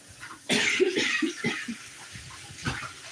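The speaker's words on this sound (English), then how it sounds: "I got a cough, so let me get over here." A person coughs a few times close by in a kitchen, with harsh bursts over a background of running water.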